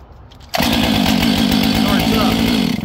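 A fuel-injected chainsaw, primed with fuel, fires up after a short quiet lead-in and settles into a loud, steady idle with a buzzing engine rattle that runs to the end.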